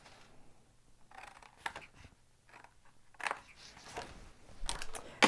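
Cardboard being cut with scissors to trim the sides of a pizza-style box, a close series of short crisp snips and crunches that grow louder toward the end, with no talk.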